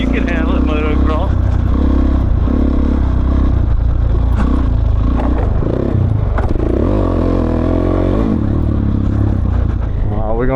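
A motorcycle rides over a wooden teeter totter on an adventure rally trail, its engine droning loud and close with revs rising and falling, plus clattering and scraping bumps, while people talk throughout.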